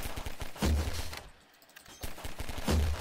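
Rapid gunfire in Garry's Mod's Flood mode, dense overlapping shots with a short lull in the middle before the shooting picks up again, loud and close with no talking.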